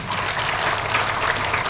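Congregation at a church service applauding together, a steady wash of clapping hands sustained at even loudness, with no talking over it.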